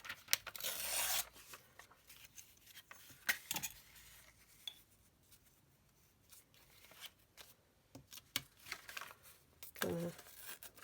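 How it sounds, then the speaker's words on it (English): Paper is ripped along a ruler for a junk journal, making a sharp close tearing burst at the start and another near the end, with quiet rustling and handling between. "So I'm gonna take my ruler and maybe do a bit of ripping."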